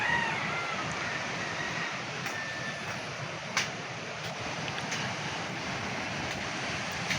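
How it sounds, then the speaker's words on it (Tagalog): Strong ocean waves break along a beach at midday, a continuous broadband roar of surf with wind buffeting the microphone and one brief louder crash midway; no one speaks. "Lakas ng alon."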